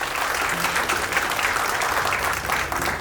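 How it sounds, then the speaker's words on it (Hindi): Continuous, even applause from an audience at a storytelling fan meet, a crisp wash of many hands clapping together without a break. "साहिबा बाली के जोर से ताली बजाएंगे हम"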